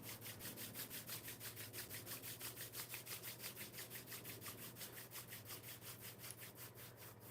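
Palms rub together with anointing oil in a steady, fast back-and-forth rhythm, each stroke a soft swishing rasp, close and continuous for several seconds over a low, constant hum.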